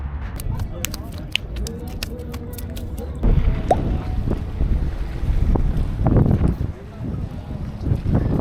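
Strong wind buffets the microphone in a steady roar on the Izmir Bay shore at Alsancak, with water sloshing and faint distant voices beneath, growing gustier partway through.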